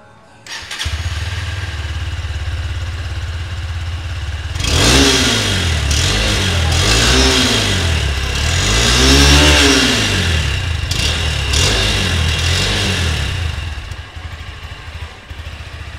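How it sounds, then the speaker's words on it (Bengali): A Honda Hornet 2.0 motorcycle engine starts, then idles and is revved several times in rising and falling surges, loud and close, with no talking. "So the sound of this bike,"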